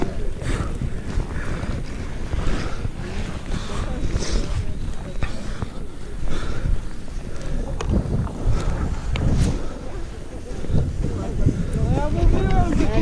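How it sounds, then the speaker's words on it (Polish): Strong wind blows outdoors, roaring and buffeting against the microphone in gusty surges, with people talking intermittently over the rushing noise. "jest długi wiatr"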